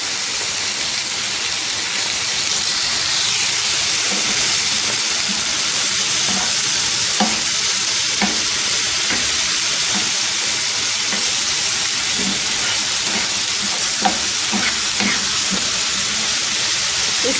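Chicken frying golden on a tawa makes a loud, continuous sizzle and hiss. Scattered crackles and faint stirring clicks rise above it.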